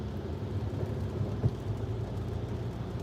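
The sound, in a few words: thunderstorm with thunder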